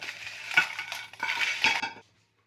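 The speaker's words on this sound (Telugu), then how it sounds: "ఇప్పుడు వేయించుకున్న మిరపకాయలు ఇందులో వేస్తున్నా" Fried red chillies are tipped into a pan and stirred for a small jujube (regu pandu) chutney, giving close, scraping and clinking utensil strokes in two short bursts before stopping abruptly.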